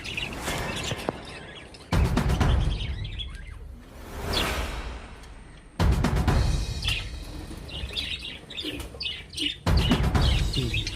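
Small caged bird chirping in quick high tweets amid loud rustling and whooshing handling noises, the calls intermittent and partly masked by the clatter.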